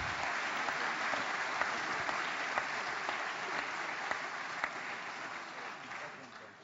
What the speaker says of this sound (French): vous êtes la famille des Républicains et vous pouvez vous applaudir